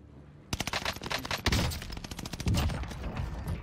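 Covering gunfire in a first-person shooter game: rapid automatic bursts with sharp, evenly spaced shots, a short quiet lead-in then dense firing and a heavier volley toward the end.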